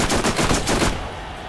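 Rapid bursts of explosive gunfire from a weapon in a zombie-themed shooter video game, a loud rattling volley for about a second that then cuts off and fades.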